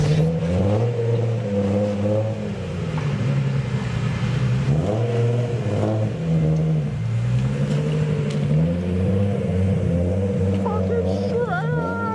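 A Nissan 240SX street drifting, engine revving and wavering in long rising and falling pulls as the rear tires are shredded, loud and close throughout, with voices in the background.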